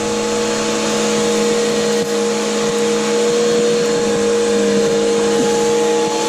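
A Bissell Powerforce vacuum cleaner runs steadily and loudly throughout, with a constant motor whine and airflow roar and no talking.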